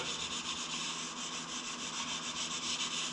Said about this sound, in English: take some 80 grit and rough it up before you put any filler in there